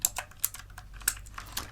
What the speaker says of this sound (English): this once again is like your typewriter keyboard here. So it sports round keys